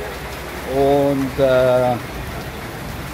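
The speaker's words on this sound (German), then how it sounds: "wir haben wieder mal schönes Regenwetter" Steady rain falls during flooding at Kamala Beach, a constant broadband hiss that continues throughout, with a short burst of someone speaking over it.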